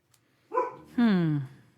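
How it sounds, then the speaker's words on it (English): A dog gives a single short bark, close and loud, preceded by a brief softer yelp. "Shut up, dog. I didn't ask you."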